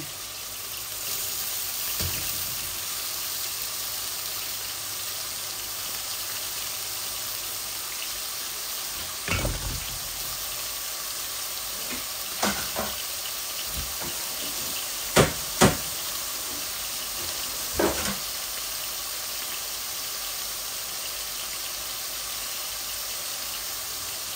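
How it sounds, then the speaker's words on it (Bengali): Onions fry gently in a pan alongside celery and carrot, a steady soft sizzle running throughout, broken now and then by short knocks and scrapes of stirring. "এগুলো পেঁয়াজটা আস্তে আস্তে আস্তে ভাজা হোক"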